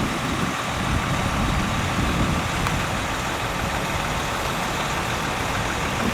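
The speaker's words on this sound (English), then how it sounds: "The concrete truck hasn't left" A concrete truck idles at a basement construction site, its heavy diesel engine a steady, loud low rumble that holds without pause, with broadband mechanical noise and no talking.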